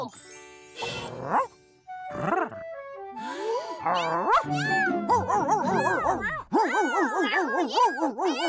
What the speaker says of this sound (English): Cat. Meow.